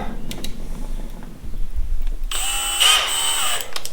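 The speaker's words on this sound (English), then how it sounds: "Alright, so we drill the holes first." A power drill whirs up in a high, steady whine after some faint knocking and handling noises, drilling holes during a deep V boat build.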